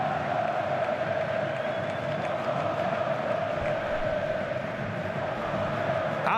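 Botafogo supporters fill the home stadium during a 2012 Brasileirão match against Corinthians, producing a steady, distant roar of crowd noise that stays even throughout without standout chants or claps.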